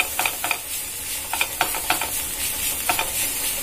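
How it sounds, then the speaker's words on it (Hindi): Arbi and potato pieces frying with grated onion in a pan, giving a steady close sizzle broken by short scraping stirs of a spatula, with no voices. "हल्का ब्राउन होने तक फ्राई करेंगे।"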